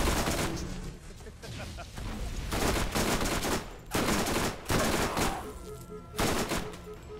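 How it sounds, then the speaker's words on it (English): Repeated heavy explosions and gunfire crash through a Borderlands video game battle, with several loud broadband bursts coming in close succession over continuous combat noise. "More freaking grenades."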